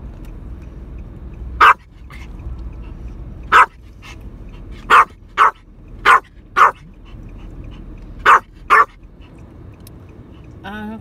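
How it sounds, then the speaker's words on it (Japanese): A dog barks in short sharp bursts, single and paired, spread across a steady low engine drone inside a car on a drive in Saitama, with no talk over the barks. "なんか犬が豹変した声になるな。"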